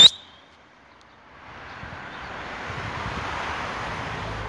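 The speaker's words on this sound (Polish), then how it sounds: "Wiatr jest silny, trochę zimno jest." Strong, cold wind blows across the open air at a pigeon loft, rising from near quiet into a broad, steady rushing roar that grows louder over a few seconds.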